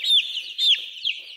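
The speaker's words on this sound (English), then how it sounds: "This is a Buff Orpington hen." A Buff Orpington hen gives a few close, high clucks in quick succession, alone with no voices.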